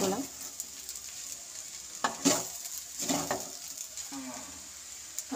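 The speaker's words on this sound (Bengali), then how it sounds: "দিয়ে ভালোভাবে নাড়াচাড়া করে নিলে আমাদের পোলাও তৈরি" Chire polao (flattened rice) with garam masala being stirred in a pan, giving soft intermittent scraping and light sizzling strokes spaced a second or so apart, fairly quiet and close.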